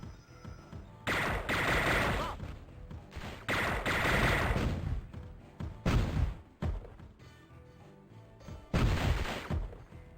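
In the N64 game Power Rangers Lightspeed Rescue, an enemy cannon fires in loud bursts of rapid blasts, four separate volleys of a second or two each with short pauses between.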